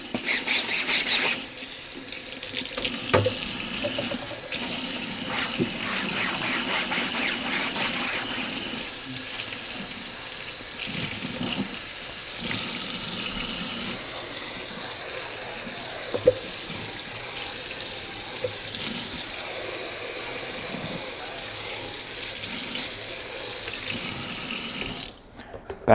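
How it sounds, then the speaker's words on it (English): Tap water runs steadily into a kitchen sink during dishwashing, a continuous broadband splash and gush with small clinks, holding at an even level for nearly the whole stretch before cutting off at the end. "when I wash dishes, water just gets everywhere"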